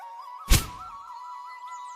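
A single cartoon thud of fruit dropping from a tree onto the ground, one short loud impact over a faint steady background tone, then quiet.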